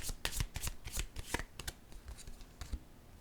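Tarot-style cards shuffled and laid down for a reading, a rapid, close series of crisp riffling flicks and slaps that trail off into softer card handling.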